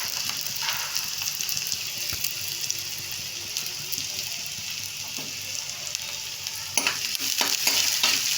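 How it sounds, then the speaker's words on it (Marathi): Onion sautés in a pan with garlic for a cabbage dry vegetable dish, giving a continuous close sizzle and soft stirring scrapes, with a few sharper clatters near the end and no talking. "कांदा गोल्डन ब्राऊन होईपर्यंत परतून घ्यायचा"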